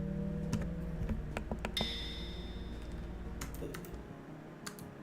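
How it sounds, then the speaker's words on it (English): Computer keyboard keys clicking in a scattered, irregular rhythm while playing Rain World, close and fairly quiet over a steady game hum, with one ringing ping partway through. "You can always hear the keyboard, that's interesting."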